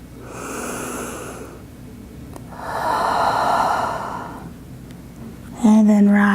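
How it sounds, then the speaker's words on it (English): A deep, full breath drawn in and slowly released during a yoga session, close and airy, with a long inhale followed by a longer exhale before a voice begins speaking at the end. "Taking one more full breath."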